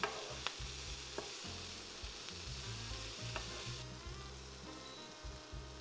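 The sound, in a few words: chickpeas frying and sizzling in a pan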